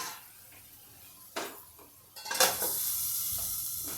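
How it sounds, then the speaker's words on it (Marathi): A lid set on a pot while carrot halwa cooks, a sharp metallic clank followed by a clatter of pan and utensil noise, then a steady hiss of sizzling at close range with no voices. "मी याच्यावर थोडस झाकण ठेवते"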